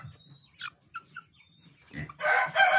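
A hen clucks inside a warm barn, giving a few short, separate clucks near the mic and then a louder, rougher burst of squawking at the end, with no people talking.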